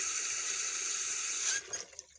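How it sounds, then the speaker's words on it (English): Water running steadily from a sink tap, a bright even rushing stream that stops abruptly partway through, followed by a few faint drips and splashes. "When you turn that water on in your sink"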